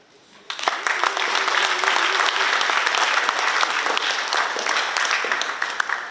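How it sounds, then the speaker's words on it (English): Applause from a graduation ceremony audience in Pohnpei, a big round of clapping that swells in after a brief quiet start and holds steady, dense and close, to the end. "Can we give Officer in Charge, Mrs. Persiba Aisam, another big round of applause?"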